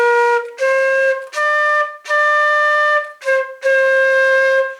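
A flute plays Ode to Joy as six clear, sustained notes separated by short breaths, loud and close with no talking.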